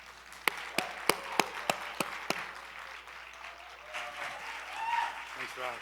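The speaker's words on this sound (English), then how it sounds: "So if we can have a nice round of applause for Kiran Koditala." Sharp, evenly spaced hand claps ring out close and distinct at the opening of a Quantum Leap conference, then give way to faint voices and crowd murmur.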